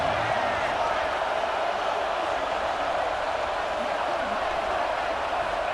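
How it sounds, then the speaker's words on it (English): A stadium crowd in College Football 26 roars continuously on third down, a dense, steady wall of cheering noise with no breaks, under commentary. "Decibels rising as the crowd gets behind this defense on third down."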